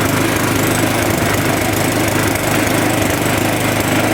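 Neglected old lawn mower engine running and burning off oil in the cylinder, a loud, close, steady chugging idle with rapid regular pulses and rattling vibration.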